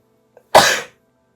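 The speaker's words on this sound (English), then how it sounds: "I'm about to sneeze." A single sharp sneeze bursts out close to the microphone after a faint intake of breath, then quiet.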